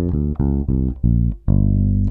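Guitar playing a blues scale with added flat fives, a run of clean single notes picked one after another in a steady rhythm, close and alone with no talking.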